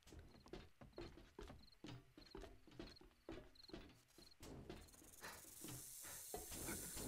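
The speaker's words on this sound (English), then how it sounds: "I hear a snake somewhere." A snake hisses in the survival video game 7 Days To Die: faint, short repeated hisses in a steady rhythm, followed by a longer rising hiss, with no talk over it.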